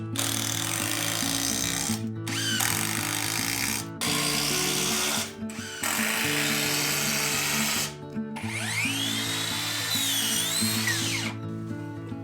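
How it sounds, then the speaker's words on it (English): A power drill drives screws into a ceiling hanger during a Japanese carpenter's ceiling frame renovation, several loud whirring bursts of a few seconds each, separated by short pauses, close and alone. "Be sure to use 2 screws at these points of contact."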